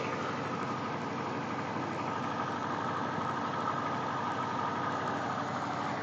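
Motorboat water taxi engine idling in a riverside town centre in Sarikei, a steady continuous drone held close and loud without a break.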